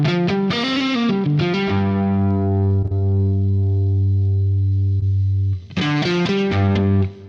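Distorted electric guitar played through a modeler's Legacy Cab 103 cabinet: a few quick strummed chords, then a long sustained ringing chord that holds for several seconds before another burst of choppy chords, loud and close, no voices.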